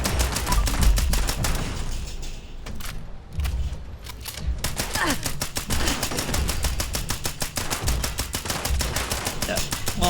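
Rapid automatic gunfire in the video game Fallout 76, dense, loud bursts of shots that pause briefly and then resume in a long continuous volley.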